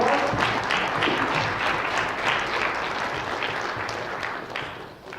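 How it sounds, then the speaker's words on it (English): Audience applause for a panel of speakers on Libya, oil and the world economy: dense, steady clapping from a crowd that holds loud for several seconds and then begins to thin toward the end. "let's give our panelists a big round of applause"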